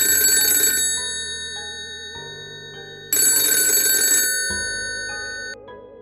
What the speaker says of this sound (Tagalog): nagring naman ulit ang telepono.